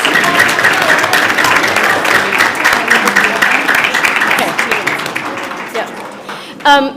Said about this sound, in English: Can we give the trilogy some huge applause?